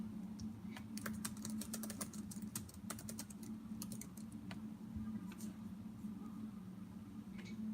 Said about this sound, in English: if you guys hear me typing